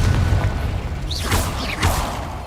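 Confringo, an explosive fire spell cast in the video game Hogwarts Legacy, going off as a deep booming burst with whooshing sweeps over a rumbling low bed, two swells about half a second apart.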